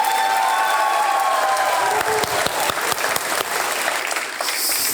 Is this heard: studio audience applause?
yes